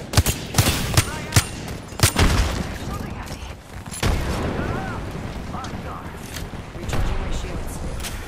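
Video game gunfire in a ranked match: several sharp shots spaced through the first seconds, then scattered louder cracks and booms, mixed with someone talking and game noise.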